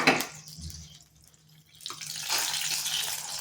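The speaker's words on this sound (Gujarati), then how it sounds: "એની અંદર જે આપણે પાણીને તેલ ગરમ કર્યું હતું એ ઉપરથી રેડીશું" Heated water and oil are poured over baking soda in Gujarati handvo batter, a soft liquid splash that starts sharply, dips, then swells into a steady pour.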